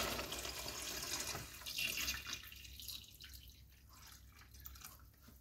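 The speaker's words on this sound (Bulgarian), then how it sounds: "И сега сипваме прецедения пилешки бульон, който още е горещ" Hot strained chicken broth is poured into a cooking pot, giving a soft, close liquid splash and trickle that tapers off into quieter dripping.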